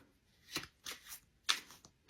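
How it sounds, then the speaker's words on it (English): A pack of playing cards is given a quick shuffle, a few soft riffling bursts close by in a quiet room. "I'll give them a quick shuffle."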